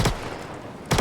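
A Behring P8 SMG fires in Star Citizen: two short bursts, one at the start and one at the end, with a quieter gap between them.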